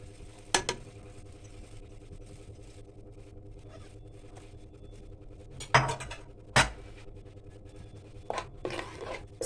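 A lid goes onto a cooking pan of shrimp with tomatoes and fresh coriander, giving a few sharp metallic clinks and clanks spaced apart over a quiet kitchen background, with no talking.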